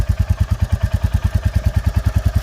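Close, loud idle of a new Royal Enfield Bullet motorcycle, its single-cylinder exhaust beating out an even, rapid thump-thump rhythm that holds steady throughout with no voices over it.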